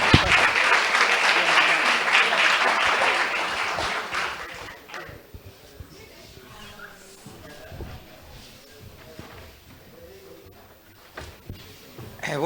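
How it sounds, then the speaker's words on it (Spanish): A crowd at a talk bursts into loud applause to welcome a guest, the clapping dense for about four seconds before thinning into scattered claps, shuffling and quiet murmurs. "Lo recibimos con un aplauso a Raúl"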